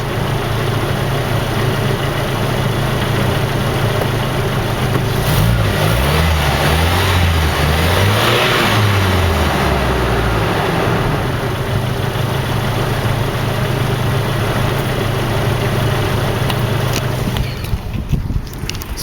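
A 1987 Nissan Vanette van engine idles loudly and steadily up close, with a rev rising and falling in the middle before settling back to a continuous low hum.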